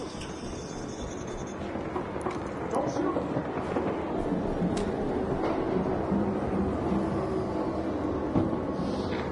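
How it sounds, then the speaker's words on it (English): A train pulls in with a loud, continuous rumble that swells slightly and holds steady. Voices call out over it. "Train has arrived."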